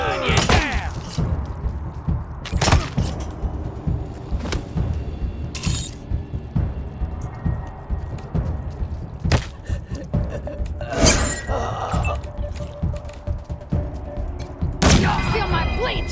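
Gunfire in the post-apocalyptic video game Wasteland 3, sharp shots bursting out at irregular intervals over ongoing combat noise and clatter, with characters' voices cutting in between.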